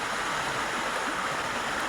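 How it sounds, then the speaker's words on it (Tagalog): Strong rushing water current pouring steadily through damaged work by an operator, a dense, continuous roar that fills the whole stretch, close and loud with no talk. "Ang lakas ng tubig."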